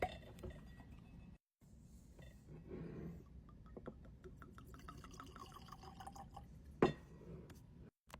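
Whiskey poured into a glass, scattered drips and a trickle of liquid with small glassy clinks, fairly faint and close, spread over several seconds.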